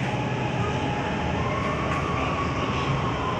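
Steady, continuous rumble and rail roar from inside a train travelling between near-empty stations in Malaysia during lockdown, close and unbroken throughout with no voices.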